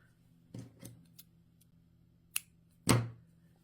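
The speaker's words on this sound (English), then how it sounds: "Okay, I'm going to trim the other end." Scissors snipping the yarn ends on a crocheted St. Patrick's Day shamrock garland, a few sharp close cuts spaced apart in a quiet room.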